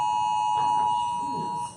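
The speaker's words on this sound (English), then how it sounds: "Amber alert, false alarm." A phone's Amber alert alarm blares during a meetup, one loud steady electronic tone sustained for over a second before cutting off, with a person's voice faintly underneath.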